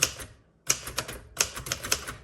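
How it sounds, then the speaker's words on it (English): A 1968 Royal Safari typewriter set to stencil mode gives bursts of rapid key strikes in short clusters with brief pauses, crisp and close with no voices. "It's going to sound like it's typing something, but you're going to look at it and go, it's not typing."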